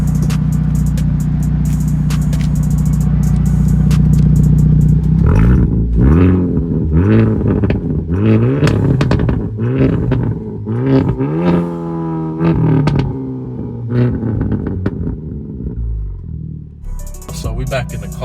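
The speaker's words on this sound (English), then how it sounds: "So let me give y'all a little rev real quick." A Hyundai Elantra N with a new loud aftermarket exhaust idles, then blips its revs repeatedly in short rising bursts, close and loud, with someone talking over parts of it.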